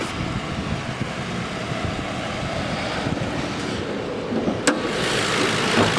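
A 2011 Ford Crown Victoria police interceptor with low miles idles steadily nearby, a smooth, even engine drone with one brief click partway through and no voices.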